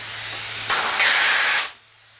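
A Lube-Jet ECO lubricant sprayer is set to a narrow jet and fires a precise point of lubricant, one loud, close hiss of about a second that cuts off sharply.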